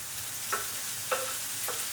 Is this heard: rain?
no